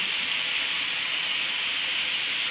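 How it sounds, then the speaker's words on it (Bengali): Beguni, eggplant fritters, fry in hot oil during iftar cooking in a home kitchen. A steady, bright, close sizzling hiss runs throughout without pause or talk. "এখানে বেগুনি বানাইয়ার, এই বেগুনি ভাজি করছি।"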